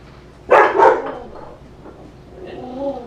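A dog gives a short, close burst of two or three loud barks, then drops to softer whimpering and yips, with faint room sound around it.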